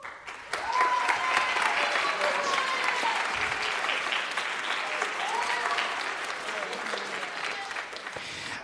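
Audience applause for junior high and high school jazz band students at a spring band concert, a sustained dense roll of clapping filling the hall from start to finish, with some crowd voices mixed in.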